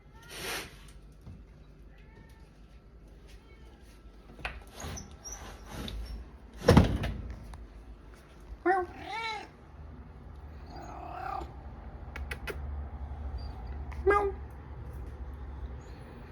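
A house cat meows a few times with short, moderately loud cries separated by pauses, mixed with some door or sliding noises and background rustle; no talking during it.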